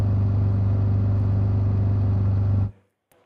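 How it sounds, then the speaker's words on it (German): A modern tractor exhaust, a steady, loud engine idling with a deep low rumble, running evenly, then cutting off abruptly into near silence. "den Auspuff ist ein relativ moderner Auspuff,"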